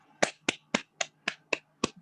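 Seven sharp hand claps from an online lecture audience welcoming a speaker, evenly spaced at a steady rhythm, close and clear with no talking.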